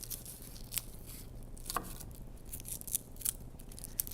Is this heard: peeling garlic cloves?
yes